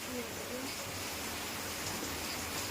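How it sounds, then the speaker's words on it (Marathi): Steady, even rain patters continuously, a broad soft wash of drops heard from a moderate distance. "पाऊस बघ किती पडतोय"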